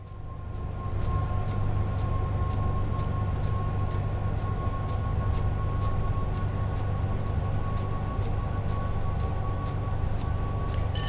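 An electric tap-changer locomotive climbing a snowy hill on the West Coast Main Line between Preston and Carlisle in Train Sim World 5 gives a steady loud motor drone with a sustained whine and regular rhythmic clicks of wheels over rail joints.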